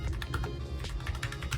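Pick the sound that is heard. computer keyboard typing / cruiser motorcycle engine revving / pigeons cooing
computer keyboard typing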